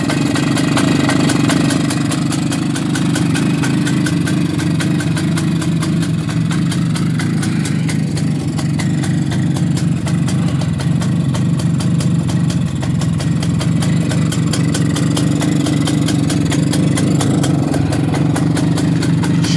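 An MZ ES 250 motorcycle with a brand-new carburettor and new battery idles steadily and loudly up close, a continuous throbbing single-cylinder beat with mechanical clatter running throughout, no voices.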